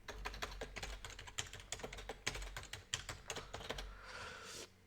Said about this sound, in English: and I'll type in my password